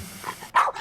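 A dog gives one short, loud bark close by, preceded by faint murmuring background sound.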